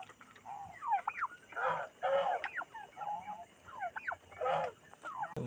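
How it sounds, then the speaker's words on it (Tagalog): Backyard turkeys gobble in repeated bursts, several birds calling over one another close by, with softer clucks and warbling notes between the loud gobbles. "Ito naman yung mga pabo natin."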